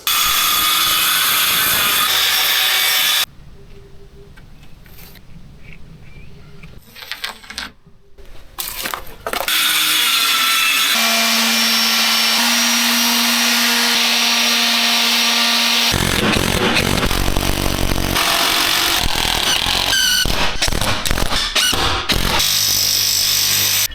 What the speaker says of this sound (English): That saw cuts the metal like butter.